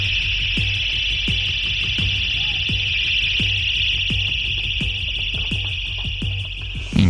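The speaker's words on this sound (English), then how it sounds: "the victim used a handheld alarm to successfully scare the attackers off and bring others from around the area" A handheld personal alarm shrieks with a steady, piercing high tone that sounds continuously and loudly, while rhythmic clicks or thumps repeat underneath.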